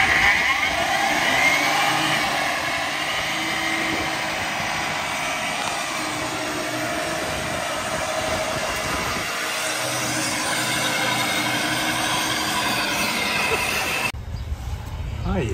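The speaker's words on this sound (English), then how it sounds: "Old one wheel peel." A Ford F150 pickup on General Grabber AT tires does a one-wheel-peel burnout, engine revving hard with a long, loud continuous roar and tire squeal that cuts off abruptly near the end; speech is faintly mixed in.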